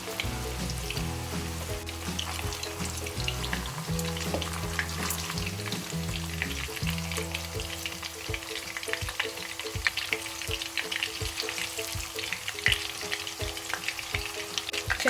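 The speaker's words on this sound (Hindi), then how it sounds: "बस ये 4 से 5 मिनट में सारे कबाब जो है फ्राई हो जाएंगे।" Kebabs deep frying in hot oil give a steady, close sizzle and bubbling crackle that runs continuously with no talking.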